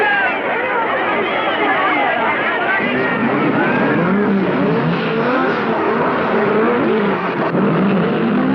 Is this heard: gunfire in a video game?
no